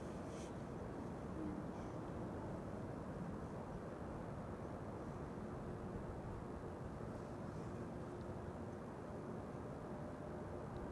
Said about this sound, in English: Transavia arriving from Alicante